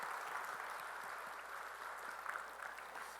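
A congregation claps during a Sunday church service, a faint, distant, steady patter of applause with no speech over it.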